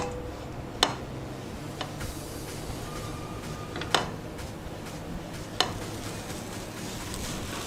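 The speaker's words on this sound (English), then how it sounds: "I am going to fry this coconut in a medium flame till I get the raw smell." Grated coconut frying in a pan over a medium flame with curry leaves and turmeric for Mangalorean kadle balyar, a soft steady sizzle broken by a few sharp clicks of stirring against the pan.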